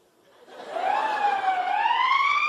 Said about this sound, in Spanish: ya llegó la ambulancia